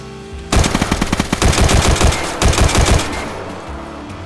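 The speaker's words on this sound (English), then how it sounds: "It's a single shotgun!" Rapid, loud gunfire in the survival video game DayZ, a sustained burst of closely spaced shots lasting about three seconds and heard up close, with no talking over it.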